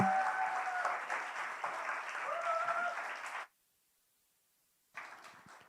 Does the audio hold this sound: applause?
yes